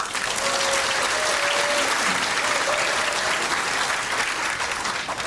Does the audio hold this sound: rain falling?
no